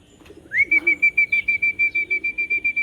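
A racing pigeon, Houston 588, arriving at the loft, with a clear bird call rising into a long string of about a dozen evenly pulsed, whistle-like notes, close and loud against a quiet background.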